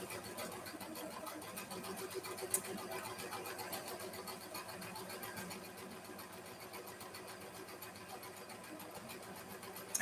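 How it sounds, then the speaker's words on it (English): A sewing machine runs with a fast, quiet, rapid stitching rhythm, steady throughout and fairly faint, with a small click partway. "How is that glorious sewing machine sound coming through my microphone?"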